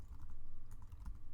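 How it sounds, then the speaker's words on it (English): Computer keyboard typing while coding a forex trading system: a quick run of soft, close key clicks, irregular and fairly quiet, with no voices. "I can't type today"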